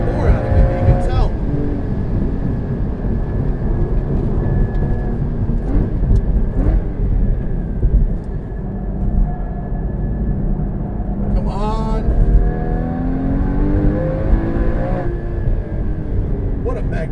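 Porsche Cayman GT4 sports car engine driven hard on a race track, a loud continuous roar with rising and falling revs through gear changes and a couple of sharp upshift sweeps.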